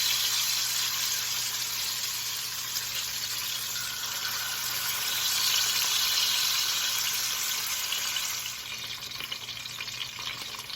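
Fish fries in hot oil in a pan, giving a continuous close sizzle and crackle of even loudness that eases slightly toward the end, with no voices.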